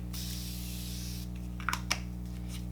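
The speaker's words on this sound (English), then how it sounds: "I'm going to take my continuous setting spray" A soft, continuous misty makeup setting spray hisses steadily for a couple of seconds over a low electrical hum, followed by a few faint clicks.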